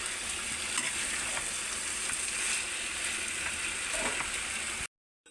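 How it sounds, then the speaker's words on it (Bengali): Ridge gourd and potato poppy-seed curry cooking in a pan, giving a steady broadband sizzle with faint scraping of stirring, fairly close and continuous before cutting to near silence at the end. "এক চামচ মতো চিনি দিয়ে দিয়েছি গাই এবার নাড়িয়ে দেবে ভালো করে"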